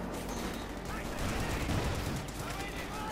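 Dense gunfire and explosions from a 2v2 match of the video game Company of Heroes 2, bursts of rifle and machine-gun fire layered with heavier blasts, continuous and loud, with a commentator talking over it.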